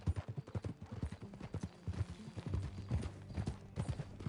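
Horse hooves clip-clopping in a steady, close rhythm on a Red Dead Redemption 2 trail ride, with a low game soundtrack underneath and no talk.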